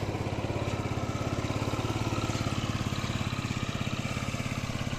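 Yamaha Jog 36 four-stroke, fuel-injected, water-cooled scooter idling nearby, a steady low rapid putter holding even throughout with no voices.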